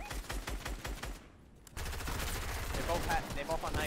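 Gunfire in the video game Fortnite, heard as rapid bursts of shots that pause briefly and then resume in a steady, dense stream, with voices talking over it.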